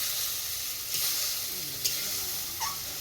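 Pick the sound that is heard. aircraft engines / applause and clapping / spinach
spinach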